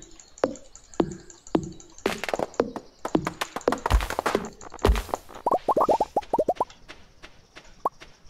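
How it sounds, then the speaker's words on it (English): Popping sounds in the Stardew Valley video game: a run of crisp plops and taps, first spaced, then faster bursts of quick pops toward the end, close and clear with no talk over them. "I like that popping sound."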